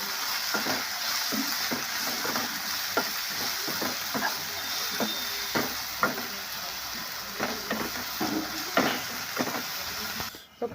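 A spatula stirs salted fenugreek leaf curry in a frying pan, giving repeated scraping strokes in an uneven rhythm over a soft, continuous sizzle, close and fairly quiet.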